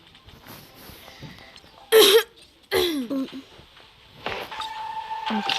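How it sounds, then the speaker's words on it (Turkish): Two sharp, loud coughs close to the microphone, one after the other, with faint Hello Neighbor game sounds and quiet background between them. "öksürdüm? Ne biçim öksürdüm ya?"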